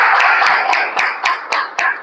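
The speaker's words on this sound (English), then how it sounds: "Let's have a huge round of applause for them as well." A small meeting group applauds briefly, a close, dense patter of hands with a few sharper claps standing out at a fairly even rhythm for about two seconds.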